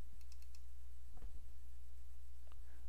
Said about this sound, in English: Put your cursor right over the type and double-click